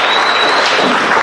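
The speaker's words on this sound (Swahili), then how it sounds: "Tumshangilie Bwana Yesu kwa makofi mazuri." A church congregation claps together at a vicarage opening ceremony. The applause is a loud, dense, continuous burst of many hands, heard close throughout the short moment.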